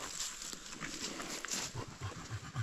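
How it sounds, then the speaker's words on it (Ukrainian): Rhythmic wet lapping of dogs drinking water in a Carpathian foothills forest, quick repeated splashy laps close by. "Зараз собаки поп'ють тут водички."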